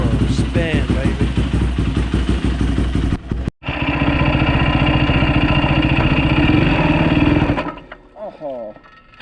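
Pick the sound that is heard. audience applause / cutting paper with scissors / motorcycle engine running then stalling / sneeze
motorcycle engine running then stalling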